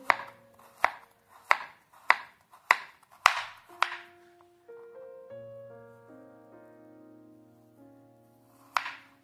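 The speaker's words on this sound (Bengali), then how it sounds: "তো এই যে বাকি নারকেলটাকে আমি টুকরো টুকরো করে কেটে নিয়েছি।" A knife chopping coconut into small pieces on a board: seven sharp, evenly spaced thuds, then a short pause filled with faint ringing tones, and one final chop at the end.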